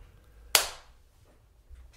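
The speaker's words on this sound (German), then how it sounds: "Nochmal klatschen bitte zur Sicherheit." A single sharp hand clap marks the start of a recording take, loud and close in an otherwise quiet room with faint low room rumble and a brief decay.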